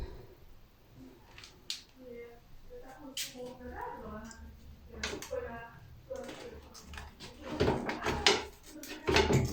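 LG washing machine knocking during its spin cycle: irregular, fairly quiet thumps and rattles scattered through the recording, building to a denser cluster of knocks near the end.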